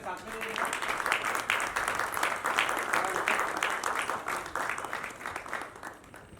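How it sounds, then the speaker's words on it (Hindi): An awards ceremony audience gives sustained applause, a dense, even clapping texture with slight swells, moderately distant and continuing throughout. "जोरदार तालियां"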